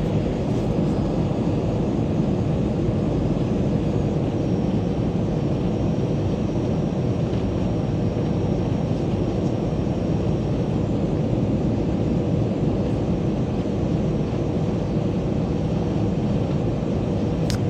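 Constant, broad roar of an Airbus cabin on landing approach with landing gear extended, a steady engine and airflow drone with no talking, unchanging throughout.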